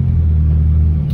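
A lowered four-door Toyota KE70 idling: a steady, deep low rumble with a throbbing engine tone, close and loud, holding even for a brief moment with no speech.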